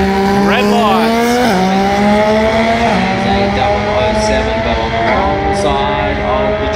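Street bikes in a drag race at a championship meet, engines revving loudly and climbing through gear shifts, with a crowd or announcer talking underneath the steady roar.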